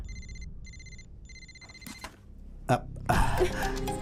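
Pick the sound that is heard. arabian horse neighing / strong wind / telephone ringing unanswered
telephone ringing unanswered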